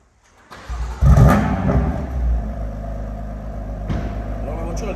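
A stage 2 BMW M3 F80 cranks, fires and flares into a loud, close rev, then settles into a rumbling idle with a small blip near the end.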